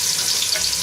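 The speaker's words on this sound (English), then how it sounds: "I've got my onions just sizzling away over a medium heat" Onions sizzling steadily in hot oil over medium heat for a lamb dopiaza curry, a dense, continuous crackle and hiss close up with no voices.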